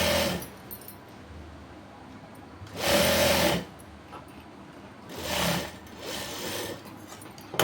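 A sewing machine stitches the waistband of a sharara pant in short, loud bursts with quieter pauses between them, heard close with no talking.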